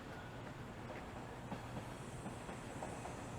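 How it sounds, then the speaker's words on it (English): A Toronto TTC Line 2 subway train passes beyond a rail corridor near Albion Avenue, a faint, continuous low rumble with light rhythmic clatter heard from a distance outdoors. "As you hear a Line 2 train passing"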